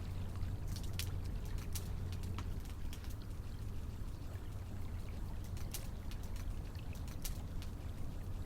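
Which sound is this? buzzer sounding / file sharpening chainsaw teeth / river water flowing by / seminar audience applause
river water flowing by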